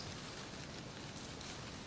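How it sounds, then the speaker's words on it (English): Steady rain in the military video game Arma 3 as a dense, even hiss of falling drops that holds at a constant level throughout the short stretch. "Is it starting to rain?"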